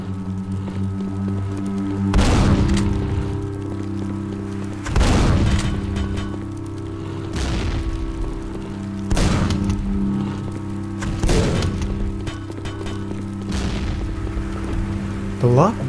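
Heavy gunfire in the Quake video game: loud booming shots land roughly every two to three seconds over a steady droning in-game hum.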